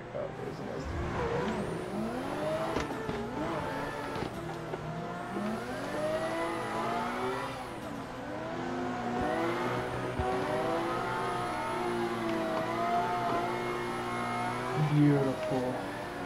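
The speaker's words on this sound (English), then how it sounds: "There's gonna be a car coming around the track." Drift cars, including a white 180SX and a white JZX90, circling a track in the sim racing game Assetto Corsa, with engines revving, rising and falling as they tandem past, tire squeal mixed in, under ongoing talk.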